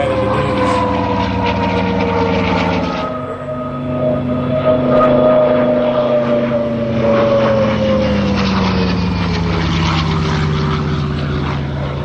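A Lockheed Hudson WWII warbird drones past at an Australian airshow, its propeller engines loud and steady with a slowly falling pitch as it passes and recedes, no voices heard.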